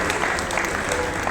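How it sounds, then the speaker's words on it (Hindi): Loud, dense applause from a mushaira audience welcoming a poet to the stage, sustained clapping filling the whole moment with no voices over it. "आइए जोरदार तालियों के साथ इनका इस्तकबाल करें"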